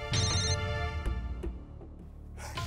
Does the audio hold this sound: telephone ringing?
yes